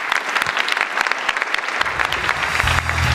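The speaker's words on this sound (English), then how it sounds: "I'd like to encourage a round of applause for Vijit" Sustained audience applause for Vijit at a National Youth Poet Laureate ceremony, a dense wash of many hands clapping that swells slightly louder toward the end.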